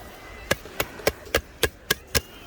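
Tapping on a sandcastle mould packed with very wet beach sand at high tide, seven dull, evenly spaced knocks close by.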